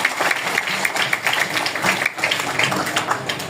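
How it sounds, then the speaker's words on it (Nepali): A crowd clapping together at a religious gathering, dense steady applause held for the whole stretch at close range, with no voices over it. "परमेश्वर पिताजीको लागि समान स्वरूप जोडा ताली"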